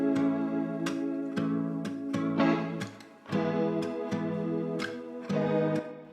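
Acoustic and electric guitars strummed together in a three-chord pattern, bright acoustic highs over a duller electric tone, rhythmic repeated chord hits, close and clear with no talking.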